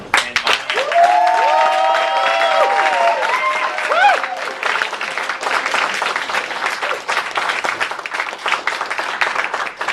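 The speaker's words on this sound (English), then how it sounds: "let's give a huge round of applause to Shannon." Loud applause from a crowd fills the space, a brief sung or whooped tone riding over it early, then steady clapping continues to the end.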